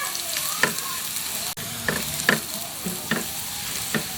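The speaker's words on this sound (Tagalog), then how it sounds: "Ngayon, magigisa tayo ng bawang." Garlic sautés in oil in a frying pan, a steady sizzle broken by intermittent scrapes and stirs of the utensil against the pan.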